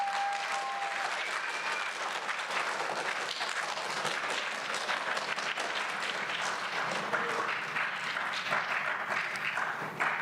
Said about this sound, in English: Let's have a round of applause for Nadia and Olivia.